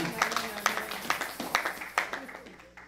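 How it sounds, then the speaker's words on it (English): Congregation at a church service clapping in scattered, uneven bursts of handclaps, moderately close, with a voice and some background sounds underneath. "Let us clap for the Lord."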